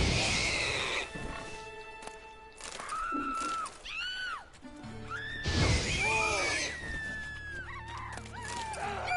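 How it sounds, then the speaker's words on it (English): A pig is slaughtered in The Witcher 3: Wild Hunt, letting out repeated high, wavering squeals mixed with crashing and thudding impacts over several seconds. "That pig didn't want to die."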